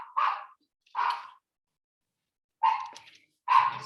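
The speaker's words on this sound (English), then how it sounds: "Sorry about the dog." A dog barks four times indoors, two quick barks, a pause, then two more, fairly close and clear against a quiet background.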